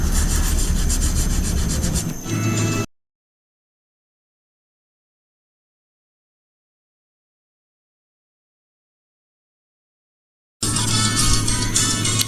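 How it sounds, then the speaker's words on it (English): Rough, abrasive rubbing of a block sander used in circular motion on a painted surface, in two bursts, a few seconds at the start and a shorter stretch at the end, separated by a long silence. "Here we are using a block sander and sanding in a circular motion."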